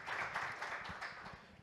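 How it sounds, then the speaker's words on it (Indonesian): A church audience claps together at an evening talkshow, a brief burst of steady, dense applause filling the room. "Mari kita berikan tepuk tangan untuk Tuhan Yesus."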